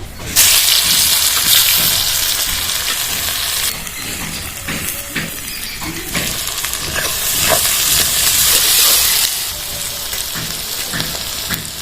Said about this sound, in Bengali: এবার পেঁয়াজগুলো ভেজে নেবো